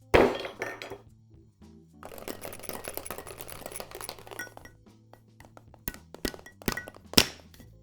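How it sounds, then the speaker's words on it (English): A cocktail shaker holding a single ice cube and egg white: a hard thunk, then a couple of seconds of rapid rattling knocks, tapering into scattered sharp clinks and taps, close and fairly loud with no talk. "Give this a second shake to chill and dilute."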